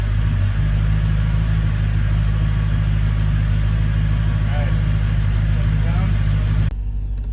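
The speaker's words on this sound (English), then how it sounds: "we're on our first drive, just backed out of the garage" A Mercedes C55 AMG with an M113 V8 and a swapped-in six-speed manual gearbox idles in reverse while backing out of a garage, a loud, steady low engine rumble filling the clip before dropping off abruptly near the end.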